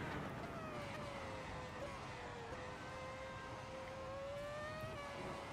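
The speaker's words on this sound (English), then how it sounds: "This one would be the V10, I believe." A high-revving V10 racing car engine in Assetto Corsa whines steadily with a sustained pitch that wavers slightly, heard at a distance behind a noisy, quiet mix.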